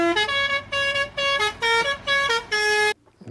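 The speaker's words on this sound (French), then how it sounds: "que serait un camion poète-poète sans ces fameux klaxons poète-poète" A Mercedes 508D truck's horn, with a tired compressor, blares a two-tone musical melody in six bright, evenly spaced blasts, loud and close, ending abruptly before a short quiet tail.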